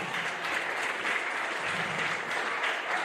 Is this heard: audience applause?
yes